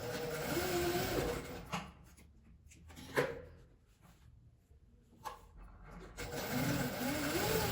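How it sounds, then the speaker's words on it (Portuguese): A sewing machine runs in bursts while it stitches a mini trapezoid zipper pouch, with a steady mechanical whir at the start and end and quieter pauses between, broken by a few sharp clicks and knocks. "Agora que eu venho costurando ele todo."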